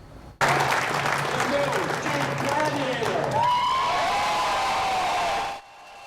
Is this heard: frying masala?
no